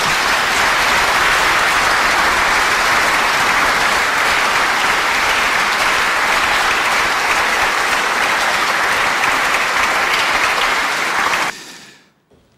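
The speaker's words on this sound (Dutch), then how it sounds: "een heel groot applaus nogmaals voor hun bijdrage" Sustained, loud audience applause for the musicians at the Huygens Festival opening concert, a dense steady clapping that holds for about eleven seconds before cutting off abruptly.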